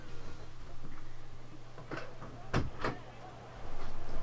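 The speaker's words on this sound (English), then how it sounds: "Let me just shut my bedroom door 1 second." A bedroom door swings shut with a couple of soft bumps and a firmer latching thud near the middle, heard close over a steady low electrical hum, no talking.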